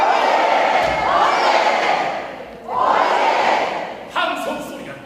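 A large crowd roaring in waves at a Spanish bullfight, two loud surging swells of shouting with a brief lull between and a sharp knock near the end.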